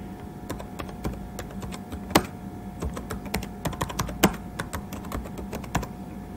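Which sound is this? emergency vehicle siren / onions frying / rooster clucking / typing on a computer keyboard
typing on a computer keyboard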